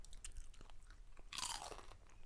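Crisp, crackly crunches of Boulder Canyon kettle cooked potato chips being bitten and chewed close up, with one louder bite standing out among quieter munching.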